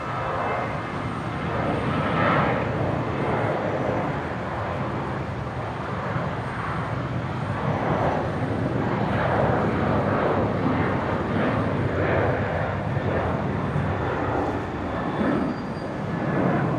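An airliner takes off from runway 01 left at Brisbane airport, its engines producing a sustained, loud, even roar throughout the departure roll and climb.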